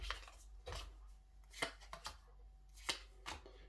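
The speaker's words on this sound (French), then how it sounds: "on va prendre ce paquet de cartes, on le mélange bien" A deck of cards for the board game Ceres is shuffled by hand, giving a few separate soft riffling bursts spaced irregularly against a quiet room.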